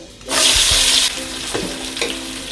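Onions are poured into hot ghee and sunflower oil for a Tirunelveli-style fish biryani, setting off a sudden loud burst of sizzling that settles into a steady fry with a few stirring scrapes.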